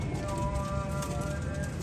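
Teddy pigeons of an old pure line cooing softly, faint and low beneath someone talking nearby.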